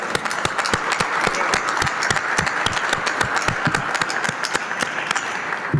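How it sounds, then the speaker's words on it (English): An audience applauds Cleveland's mayor during his address on COVID vaccines, a sustained round of crowd clapping with several loud, crisp claps from nearby hands standing out in a quick, uneven rhythm above the wash. "That deserves a round of applause"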